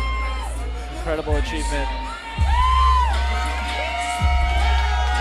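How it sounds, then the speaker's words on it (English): Spectators at a charity boxing match cheer, whoop and yell loudly, with shrill whistles rising in bursts over a constant roar. A commentator talks over the noise. "Crowd's going nuts."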